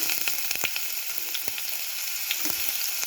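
Mustard seeds and ginger frying in hot oil in a pan, a steady close sizzle with scattered sharp pops and crackles throughout, no voices.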